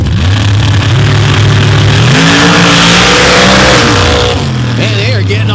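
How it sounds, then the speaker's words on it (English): Drag racing cars, including outlaw and modified classes at Paducah, launch off the line with loud roaring engines that rev up and down in stepped bursts for several seconds. Voices and crowd noise sit underneath. "Man, they are getting off the line quick tonight."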